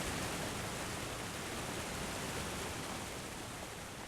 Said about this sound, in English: There's our waterfall that we diverted